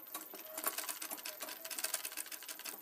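A sewing machine stitches small half-inch pleats into a petticoat, running in a steady rapid whir with slight rhythmic pulsing, close by and alone with no talk.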